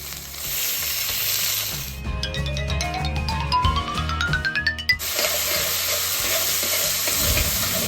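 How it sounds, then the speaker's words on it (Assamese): Chopped onion and tomato frying in hot oil with bay leaf and dried red chilli for a chana dal with mustard greens, a steady close sizzle that briefly changes as ingredients drop in and are stirred, no talking. "কুটি লোৱা পিঁয়াজখিনি দি দিম। কুটি লোৱা বিলাহীখিনি দি দিম।"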